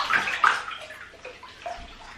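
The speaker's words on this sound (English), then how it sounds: "I'm going to rinse out my conditioner in my hair and just lay under the water" Bath water sloshes and splashes while conditioner is rinsed out of hair in a bathtub during a cozy night routine. The gurgling movement is close and moderately loud, with no talking.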